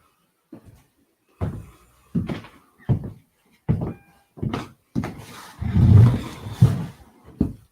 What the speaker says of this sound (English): Go put the drawer back in, then you can come out.